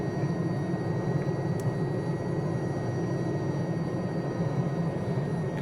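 Aerospatiale SA316B Alouette III helicopter in Microsoft Flight Simulator, a steady loud engine and rotor drone holding even throughout with no breaks.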